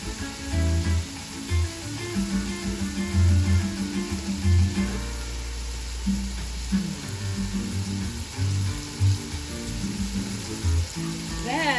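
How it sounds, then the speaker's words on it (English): Vegetables for a Haitian legume stew sauté in a pot while being stirred, giving a soft, steady sizzle with occasional scraping, heard faintly beneath louder low-pitched background music. "as you can see, I'm stirring because I want to allow it to saute"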